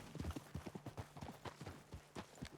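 Horse hooves clip-clopping in Red Dead Redemption 2, a steady run of crisp, fairly close hoofbeats in an even walking rhythm, heard alone at a low level.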